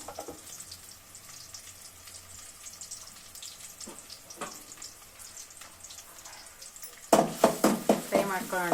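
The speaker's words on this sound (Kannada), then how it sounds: "ಈರುಳ್ಳಿ ಹಾಕ್ಕೊತಾ ಇದ್ದೀನಿ ಹಾಗೆ ಇದ್ರ ಜೊತೆಗೆ ಬೆಳ್ಳುಳ್ಳಿ ಕೂಡ ಹಾಕೊತಾ ಇದ್ದೀನಿ ಇದು ಫ್ರೈ ಆಗಿದೆ" Chopped onions and garlic frying in hot oil in a pan, a soft steady sizzle with light clinks, then a louder burst of crackling as more goes into the pan near the end.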